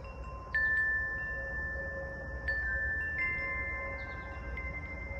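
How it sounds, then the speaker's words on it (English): Garden wind chimes sound several soft metallic notes at uneven moments, each ringing on and overlapping the others against a quiet outdoor hush. "Next, the wind chimes."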